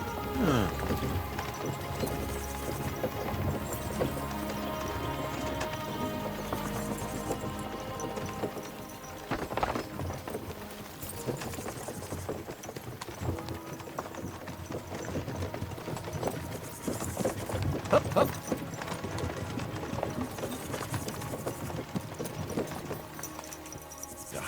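Horse hooves clip-clop steadily during a ride in the video game Kingdom Come: Deliverance 2, blended with music and ambient game sound, as a rider briefly urges the horse on.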